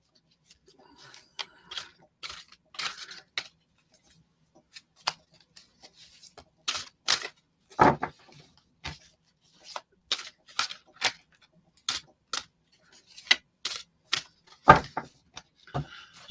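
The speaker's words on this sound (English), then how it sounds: "Let me do a cleansing shuffle, though, first." Tarot cards shuffled by hand during a reading, giving irregular bursts of crisp riffling and slapping cards, close and fairly quiet, with short pauses between shuffles.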